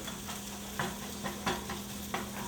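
Ginger sizzles softly in a hot pan for mussels, a quiet, continuous fry punctuated by a few scraping stirs of a utensil.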